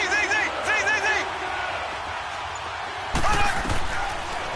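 A stadium crowd roars in an American football video game as a big third down approaches, with a steady wash of cheering and a louder surge near the end, heard under a play-by-play commentator's voice.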